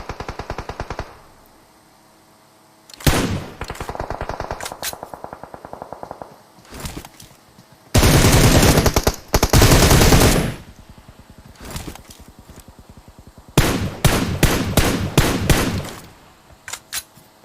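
Bursts of automatic gunfire from the mobile battle-royale game PUBG Mobile, loud clustered volleys with short gaps between them, the heaviest in the middle and near the end.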